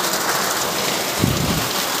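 Heavy rain pours steadily in Hailakandi district, Assam, a dense continuous hiss of drops on surfaces with a brief heavier burst midway; no one speaks.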